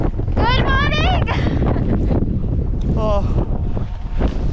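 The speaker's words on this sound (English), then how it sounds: "It's very windy today and very cold." Heavy wind buffets the microphone outdoors on a cold day in Scotland, giving a loud, constant rumbling roar, while people's voices break through it in places.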